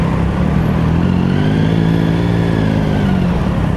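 A motorcycle fitted with panniers weaves through busy traffic, its engine close and loud, with the pitch rising and falling as the rider feathers the clutch and swaps lanes.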